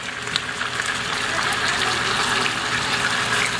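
Water pours steadily into a cooking pot of chicken and onions, a continuous close gushing splash that holds even and fairly loud throughout.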